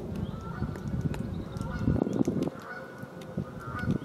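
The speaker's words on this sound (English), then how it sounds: "Only there were some singing birds and some angry gooses." Geese honk repeatedly by a lake, a cluster of harsh, fairly close calls with outdoor ambience and a few small birds in the background.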